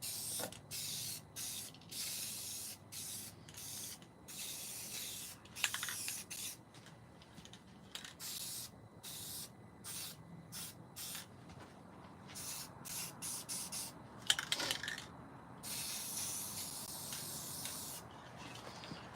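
An aerosol spray can cleaning up a little overspray: repeated short, close hissing bursts separated by brief pauses, with a few faint knocks and rustles between sprays.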